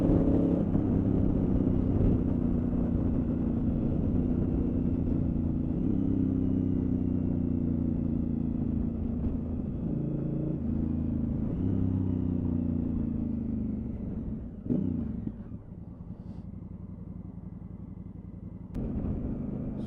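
Honda Africa Twin Adventure Sports motorcycle with quick shifter and auto blipper under way, a steady loud engine drone that rises and dips through gear changes and eases off near the end.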